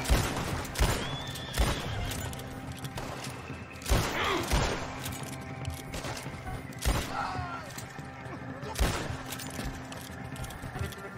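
Red Dead Redemption 2 Online gameplay with a horse whinnying amid repeated bursts of gunfire and thumping hooves, loud and cluttered.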